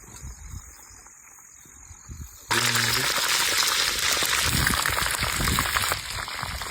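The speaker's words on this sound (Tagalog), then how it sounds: "medyo ulan-ulan man" Steady rain hisses across surfaces, growing sharply louder partway through into a dense, close wash of falling water.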